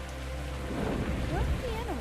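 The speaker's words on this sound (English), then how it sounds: "it's also thunderstorming right now. You might be able to hear the thunder" Thunderstorm in the Nature Treks VR game: steady rain falling, with a low rumble of thunder swelling in the middle.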